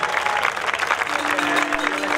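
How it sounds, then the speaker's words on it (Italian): A crowd at the Villacidro Skyrace 2018 award ceremony claps enthusiastically, steady dense applause filling the short stretch without pause. "Un altro forte applauso."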